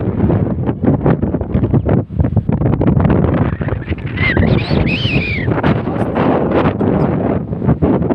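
Strong gusting wind buffets the microphone outdoors near a fort on the Hyderabad–Karnataka border, a loud continuous rumble and roar with no talking over it.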